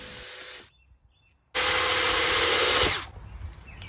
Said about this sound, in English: Now we're going to add some 3-inch deck screws at an angle from kind of either side